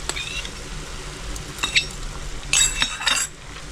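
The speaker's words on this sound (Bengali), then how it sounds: "পেঁয়াজ বাটাটা দিয়ে আমি ভালো করে একটু নেড়ে চেড়ে নিচ্ছি।" Onion paste being stirred in a pan for chicken roast, with scattered metallic clinks and scrapes of a spoon against the pan over a low background hum, close by, and a voice speaking faintly.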